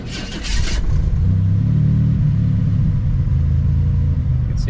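A 1986 Buick Grand National engine cranks briefly and fires, then settles into a loud, steady low rumbling idle close by, with no voices.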